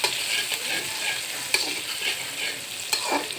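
Onion, garlic and chili frying in a pan, a steady close sizzle with a few sharp stirring scrapes at intervals.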